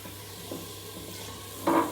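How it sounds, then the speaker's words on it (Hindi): Beef fries in a pan with whole spices, a steady close sizzle throughout, with a brief louder burst of stirring and scraping near the end. "बीफ फ्राई हो रहा है, थोड़ा थोड़ा सा कलर चेंज हो गया।"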